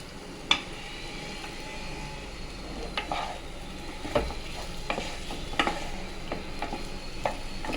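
Taro (chamagadda) roasting in a pan with chilli powder, a steady low sizzle broken by scattered sharp scrapes and knocks of stirring, fairly close and moderately loud, no voices.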